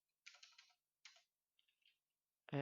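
A few quiet keystrokes tap on a computer keyboard in short clusters separated by silence, ending with a sharper, louder click.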